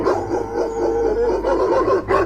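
Dogs howling out in a street at night, a steady wavering howl that holds throughout, fairly loud and close, with no talking over it.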